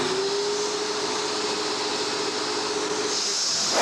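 A trash-picked Eureka Victory vacuum cleaner runs steadily with a loud, even whooshing roar and a faint constant whine, unbroken throughout, close by, no talking.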